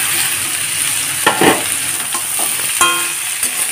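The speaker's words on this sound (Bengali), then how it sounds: "এখন গ্যাসটাকে হাই ফ্লেমেই করে রেখেছি, আলুটাকেও হালকা ভেজে নেব" Potatoes frying over high gas flame in a pan for snake gourd curry, a dense, bright sizzle broken by a few stirring scrapes and clatters.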